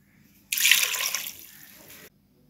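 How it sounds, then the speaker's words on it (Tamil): Water splashes and pours into a pot of mutton soup for about a second and a half, bright and close, trailing off into a softer trickle before stopping. "போட்டுட்டு தண்ணி ஊற்றிக்கோங்க."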